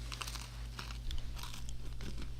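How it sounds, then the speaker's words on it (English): Someone takes several crunchy bites of a granola bar close to the mic. The snaps and crumbly chewing come in a quick irregular run over a low background hum. "Oh, no, that's Jay's granola bar"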